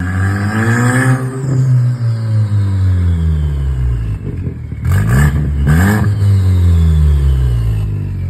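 A Mustang EcoBoost engine with a T51R turbo mod revs hard several times, rising and falling with a whooshing, jet-like turbo whine, loud and close.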